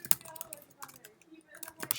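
Quick typing on a computer keyboard, irregular bursts of close, crisp key clicks with short pauses between them, fairly quiet and alone.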